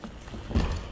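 Footsteps in the survival horror game Resident Evil 2, heard inside a police station as a few soft, dull thuds over a low, murky ambience.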